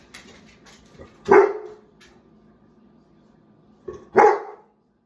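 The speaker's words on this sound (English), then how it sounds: "For barking, of course." A dog barks twice, sharp and close, with a few seconds of quiet between the loud barks and faint background sounds in the gaps.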